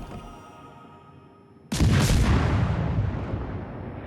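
Warship main guns in World of Warships: Legends fire in one sudden heavy broadside, a loud deep blast that rolls on and slowly fades, following a quieter stretch of low engine and sea rumble.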